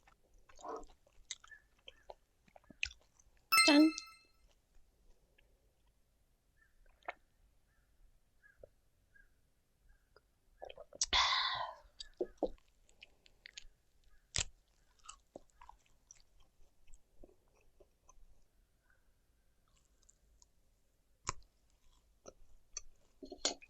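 Quiet, close chewing and tearing of grilled sandfish (yangmiri), with sparse crunchy bites and small clicks spread across a calm room.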